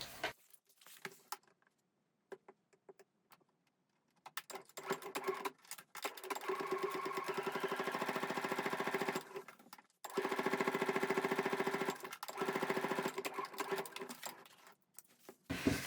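A sewing machine topstitches the edge of a foldable fabric shopping bag in rapid, close, whirring bursts of stitching. The bursts are separated by brief pauses, and the longest runs go on for several seconds.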